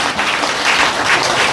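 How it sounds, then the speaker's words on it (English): An audience applauds after a pastor's singing performance, producing a brief, dense burst of clapping at moderate loudness. "Applause."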